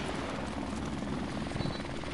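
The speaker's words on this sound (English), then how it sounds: "Oh, choppers are so annoying." A helicopter in Call of Duty Modern Warfare Remastered, a continuous thudding rotor chop with a dense engine roar, loud and close and unbroken throughout.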